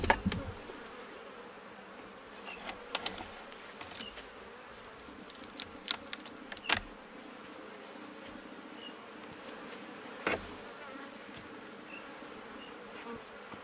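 Honey bees hum steadily at an opened hive in late season, a soft continuous drone with occasional sharp clicks and knocks of hive parts being handled.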